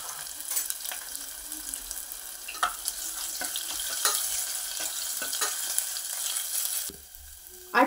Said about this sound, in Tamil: கொஞ்சம் எண்ணெய் ஊற்றிருக்கேன். அதில் வந்து பூண்டு, இஞ்சி வந்து தட்டி போட்டுக்குவோம். லேசாக ஒரு வதக்கு